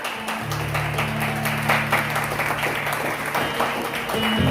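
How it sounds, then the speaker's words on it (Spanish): A church congregation claps together during a Spanish-language sermon, a steady wash of applause carried on for several seconds, with a low sustained hum running underneath and a voice faintly present at moments. "den un aplauso al Señor por eso."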